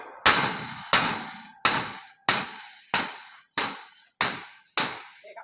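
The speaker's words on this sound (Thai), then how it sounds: "แล้วเราก็ใช้ค้อนที่มีน้ำหนักหน่อยนะครับ" A heavy hammer strikes a welded metal mount for a motorcycle sidecar on a Honda NSR 150, eight sharp, ringing blows at a steady pace of about one per second, close and clear with no talking.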